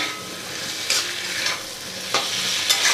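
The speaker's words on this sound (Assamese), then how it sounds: "এইখিনি ভালদৰে লৰাই দিছোঁ।" Red amaranth stalks being stirred and fried in a pan, a steady close sizzle with scraping stirs at intervals and no talk.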